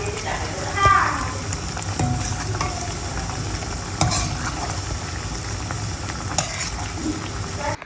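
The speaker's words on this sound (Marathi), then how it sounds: "मस्त क्रिस्पी फ्राय करून घेणार मी" Alu vadi frying crisp in a pan, a steady broadband sizzle running throughout with a few brief louder bursts, while a person talks over it.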